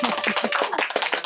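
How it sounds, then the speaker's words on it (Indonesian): An audience at a podcast taping claps in a quick, dense burst of hand claps, loud and close, with no talk over it. "Tolong tepuk tangan lebih hebat."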